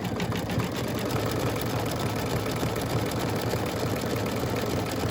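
An embroidery machine with a 4x4 hoop stitching the front of an in-the-hoop earring holder to the back, a loud, steady, rapid mechanical whirring and clatter, close up and continuous, no talking.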